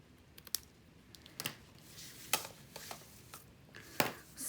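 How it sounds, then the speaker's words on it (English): Faint, sparse snips and clicks sound at irregular intervals, close but quiet, like scissors trimming paper. "I'm just going to snip off the bits that we're hanging over"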